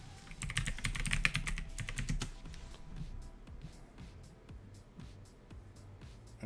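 Fingers type quickly on a computer keyboard, a rapid close clatter of key presses that slows into sparser, quieter taps toward the end.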